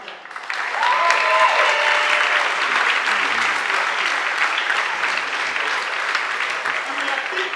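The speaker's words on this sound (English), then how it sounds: "Can I get a round of applause for that?" A rally crowd breaks into sustained applause and cheering, loud and dense for several seconds, with voices calling out over the clapping.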